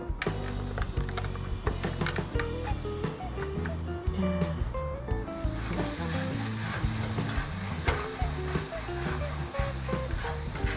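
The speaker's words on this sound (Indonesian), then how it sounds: "masukkan minyak sedikit untuk menumis. Terus masukkan bumbu-bumbu yang tadi udah di blender" Blended spice paste sautés in a little oil for semur jengkol, giving a steady sizzle with stirring and scraping sounds and clinks of a utensil against the pan, with music playing underneath.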